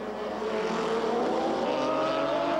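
TQ midget race cars run on a track at a midget racing event, a steady engine drone with a rising pitch as a car revs and passes, moderately distant and continuous.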